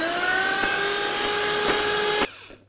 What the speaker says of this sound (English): Then I'm just going to continue to whisk until they become silky.